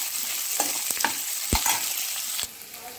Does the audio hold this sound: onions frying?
yes